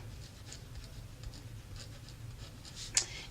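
Pen or pencil scratches steadily across paper as handwriting during a math lesson on inequalities, soft and close, with a brief louder scrape near the end and no speech.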